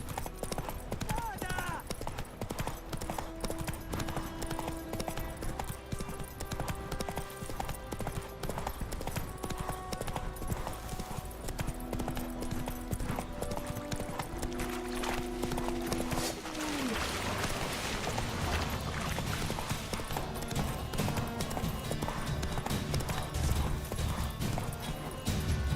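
Roach the horse galloping in The Witcher 3, with a dense run of clip-clop hoofbeats beneath game music and ambient sound, steady and fairly quiet throughout.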